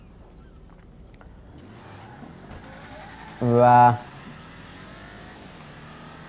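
In GTA V, an Arbiter GT, modeled on a 1970 Chevrolet Chevelle, gives a single loud, brief engine rev and launch burst midway through, rising above a low ongoing engine drone, with someone speaking over it.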